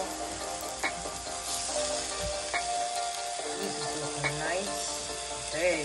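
Steaks sizzle and spit in a hot pan with a continuous crackling hiss, faint and close, while a person speaks over the frying.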